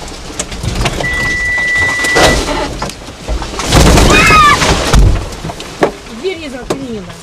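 A car reverses during a scene with falling trees, producing a rumbling engine swell with splashing and rattling noises. People shout and call out nearby over the sound.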